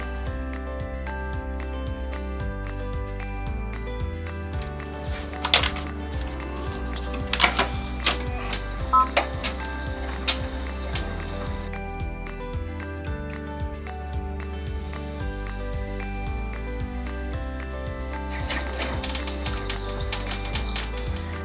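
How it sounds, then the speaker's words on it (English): An embroidery machine runs a tack down stitch through taped-down batting and fabric, a busy, continuous mechanical chatter of rapid needle strikes with a few sharper clacks along the way, steady and close with no talking. "I'm going to tape down my batting and my fabric, and I'm going to run my tack down stitch"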